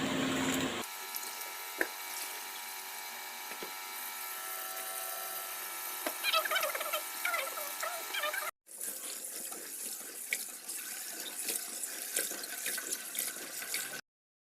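Old rice being washed by hand, rubbed in water under a running tap, giving a steady hiss of flowing water with a brief break in the middle and faint grainy scrubbing.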